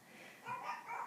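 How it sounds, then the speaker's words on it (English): Dogs bark faintly in the distance, a few soft yips and woofs in close succession over a quiet room background. "Sorry about the dogs barking."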